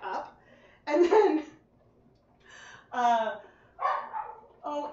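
Short high-pitched whines and yelps from an indoor dog, a few separate nasal cries spread over a few seconds, fairly close with quiet gaps between.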